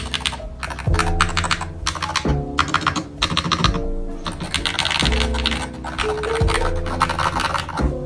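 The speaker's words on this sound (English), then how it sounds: "Now let's listen to the typing sound." Steady, fast typing on an Epomaker HE68 mechanical keyboard, dense clacky keystrokes in bursts with brief pauses, close and fairly loud.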